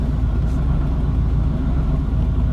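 A Terra Jet vehicle's engine rumbles at a steady low idle while backing up, a close, continuous throaty drone with no talk over it.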